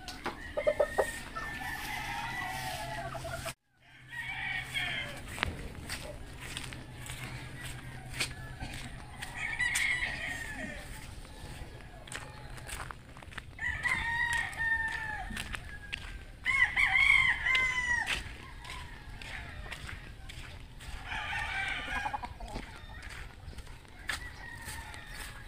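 Gamecock roosters, Golden Boy crossed with Gilmore, crow and cluck in a farmyard, with several loud crows rising over steady background clucking and a brief silent gap near the start.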